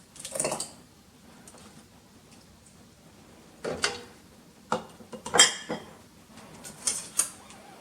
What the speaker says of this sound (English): Now we're going to fill each jar to a 1/2 inch of Headspace.